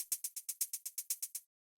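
A shortened shaker sample in a melodic house track plays even 16th notes: about eleven crisp, airy hits in a row with fast decays, faint and isolated, then stopping abruptly.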